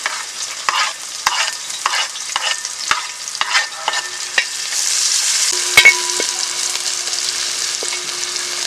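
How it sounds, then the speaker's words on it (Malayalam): Ginger, shallots, slit chillies, garlic and curry leaves fry in hot oil at a camp cookout, with a steady sizzle and a run of sharp spoon scrapes and taps against the pan, close and clear. "എണ്ണ ഒന്ന് ചൂട് പിടിക്കുമ്പോഴത്തേക്ക് നമ്മൾ അരിഞ്ഞു വെച്ച സാധനങ്ങൾ, അതായത് ഇഞ്ചി, ചെറിയ ഉള്ളി, മുളക് കീറിയത്, വെളുത്തുള്ളി, കറിവേപ്പില ഇതങ്ങിട്ട് കൊടുക്കുന്നു."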